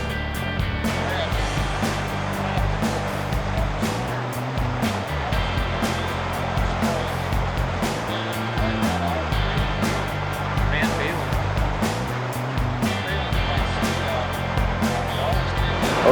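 Whitewater rapids on the Gallatin River with boats splashing through, a broad continuous rush of churning water close by, with someone talking over it at times.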